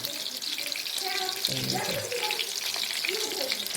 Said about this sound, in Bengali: বলগুলোকে ভালো করে ভেজে নেব